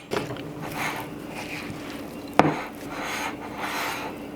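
A spatula scrapes and stirs gluten-free caramel coconut cookie bar batter in a bowl, giving a steady close rubbing, rasping sound with one sharp knock midway, and no talking.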